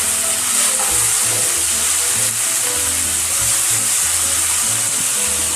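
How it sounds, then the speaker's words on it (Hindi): Tomatoes and onions fry in a pan for a Bihari-style small fish curry, giving a loud, continuous, close sizzle with occasional stirring scrapes and no talking. "तो चलिए सबसे पहले हम इसको भून लेंगे टमाटर और प्याज को अच्छे से"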